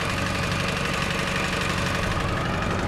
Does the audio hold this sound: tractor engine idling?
yes